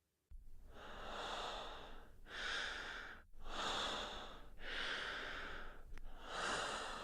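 Slow, heavy breathing comes through close and alone, with four or five long, drawn-out breaths in an even rhythm, each trailing off before the next begins.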